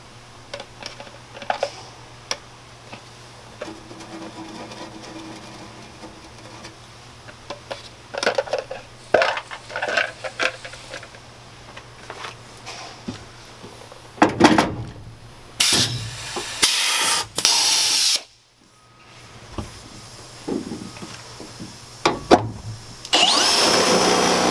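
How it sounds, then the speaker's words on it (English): Holes are punched during an A-frame wall installation, giving irregular sharp knocks and clanks followed by a burst of loud grinding or hammering bursts toward the end. "I'll go ahead and punch the rest of the holes"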